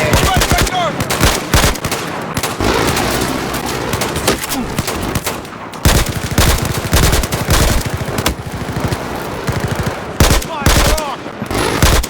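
Rapid automatic gunfire from the video game Battlefield 4, dense bursts of loud shots rattling almost continuously, with brief pauses between volleys and faint voices underneath.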